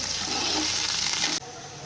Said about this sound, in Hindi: अब हम इसमें प्याज डालेंगे। प्याज़ों को हम अच्छी तरीके ब्राउन होने तक पकाएंगे।